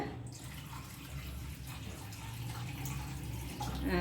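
Steady stream of water pouring and splashing into a pot, about three-quarters of a litre, continuous and fairly quiet, with no talking.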